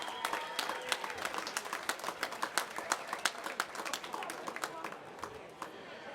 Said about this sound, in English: a round of applause too for Nikki the Hammer Hannon and the red team